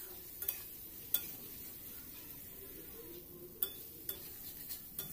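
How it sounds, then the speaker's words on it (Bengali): A spice paste with potatoes is stir-fried in a pan for a Baul fish curry. It makes a faint, low sizzle broken by a few sharp clinks of a spatula against the pan, quiet and close. "তারপর আবার ভালো করে কষিয়ে নেব।"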